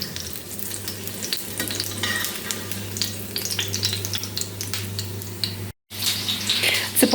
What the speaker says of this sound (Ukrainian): Швиденько вони смажаться